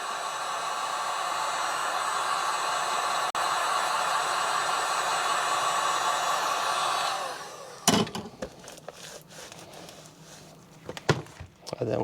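Heat gun or hair dryer warming a Discmania DD3 golf disc during dyeing, a steady airy blowing roar for about seven seconds, then cut off, followed by handling clatter and rustling.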